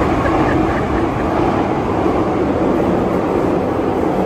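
A Paris metro train rumbles loudly and steadily throughout, a dense, continuous roar of wheels and carriage noise with no pauses.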